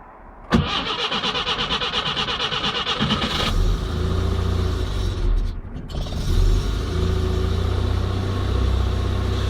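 A Škoda 100 carburetor engine with weak fuel pressure cranks with a rapid ticking whir, then catches and settles into a loud, rough, misfiring idle that wavers as it keeps running.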